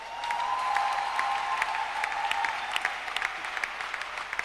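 A church congregation claps together in sustained, lively applause, a dense wash of many hands that holds steady throughout, with a faint tonal hum beneath and no voices standing out.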